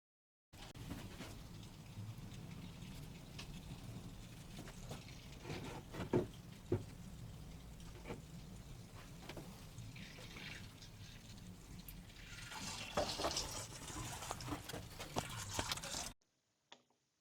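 Steady trickling and splashing of hot engine oil, thin after an engine flush, draining from an Opel 2.0 DTI in a continuous stream, close by, with occasional drips and small gurgles.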